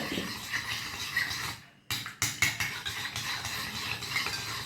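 Homemade hair dye mixture being stirred in a bowl, with scraping and clinking of a utensil against the container, a brief pause, then several sharper knocks and continued mixing close by.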